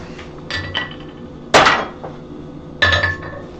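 A hand-made hammer forged from a chunk of forklift tine strikes a nail in a nail header, ringing out in three sharp metallic blows with lighter taps between, close and loud over a quiet hum.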